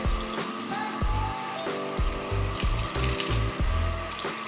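Tap water runs into a sink over a makeup sponge being rinsed and squeezed, with a steady splashing stream and rhythmic squelching pulses as the sponge is worked, close and fairly loud.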